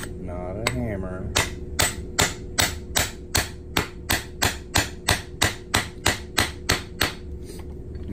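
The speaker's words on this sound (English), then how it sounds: "use a plastic mallet, not a hammer" A steady series of about twenty sharp, even taps, close and loud, as a plastic mallet strikes a coin ring on a metal stretcher with a regular rhythm after a brief opening sound.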